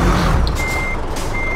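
Bus reversing beeps in the truck driving game Euro Truck Simulator 2, two steady electronic beeps under loud engine and traffic rumble, heard briefly and close.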